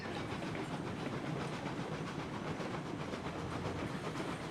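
A train rolling along rails in the Railroads Online game, a steady, continuous rumble with clickety-clack and a faint hiss that stays loud and even throughout, with no talking.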